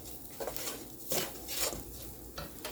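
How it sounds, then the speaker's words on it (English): Rice is stirred into onions in a pot, a close, busy scraping and swishing with a few louder utensil scrapes against the pot over a steady background of faint sizzling. "you're going to mix it in with the onions and let it simmer for about a minute or so"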